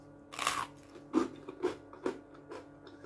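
Crisp crunches of biting into a dry zwieback rusk spread with butter and jam, about six separate bites spaced through the stretch, close and fairly quiet with no talk.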